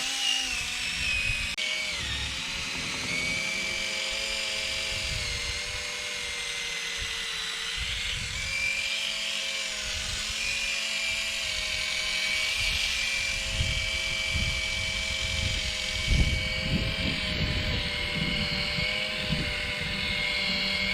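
A power buffer whirs continuously, polishing a car headlight, its motor pitch wavering slightly as pressure shifts; the steady, fairly loud grinding drone runs for the whole stretch with no talk over it.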